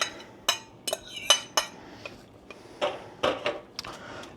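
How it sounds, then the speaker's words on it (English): Noodles are stirred in a metal pot on a stovetop, giving a string of sharp, irregular clinks and scrapes of a utensil against the pot, close and fairly quiet, with no talk. "we just give it a little bit of a stir"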